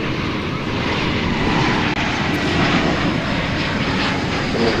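A fixed-wing airliner takes off at DFW Airport, its engines roaring loud and steady at close range, with a broad rushing noise and light wind buffeting throughout.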